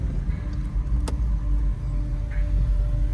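A street-racing car's engine at night in Bellmore traffic, a short, steady low rumble and drone with a brief sharp click, no speech.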